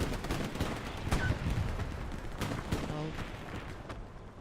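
Rockets fired during a Hell Let Loose match, with a few sharp blasts and booms over a rumbling battlefield background, moderately loud and spaced a second or more apart.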